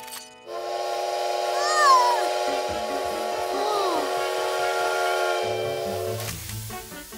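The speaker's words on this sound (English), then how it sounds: "A train!" A cartoon steam train whistle sounds in a long, loud, bright chord with wavering pitch bends, followed by a shorter low rumble as the animated train passes.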